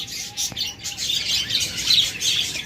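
Caged budgerigars or lovebirds in a breeding setup keep up a busy, fairly close chorus of chirps and twitters, with a few brief clearer whistled notes standing out near the start.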